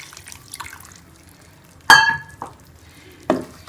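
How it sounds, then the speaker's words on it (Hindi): Yakhni stock is poured into beef cooked in a yogurt masala, landing as a sudden splash and brief sizzle, followed by a couple of softer liquid drops and stirs over a quiet background. "अब मैं इसके अंदर ये थोड़ी सी यखनी थी ये डालूंगी।"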